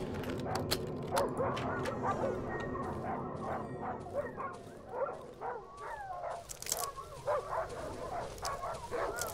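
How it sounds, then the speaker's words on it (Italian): In the horror survival game Darkwood, a dog barks repeatedly in quick, uneven bursts, mixing yips and whimpers with its barks, close and fairly loud over a low rumbling background. "Oddio, un cane."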